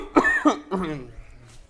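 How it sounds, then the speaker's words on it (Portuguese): A person coughs twice in quick succession, with a third softer cough-like burst just after, all close up and fairly loud with no talk. "Eu tô com uma tosse porque eu tô no final de gripe"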